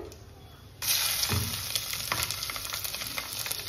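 Crushed garlic and curry leaves hit hot oil with a sudden loud sizzle that carries on steadily, with faint stirring clatter, while preparing jeerige bajji.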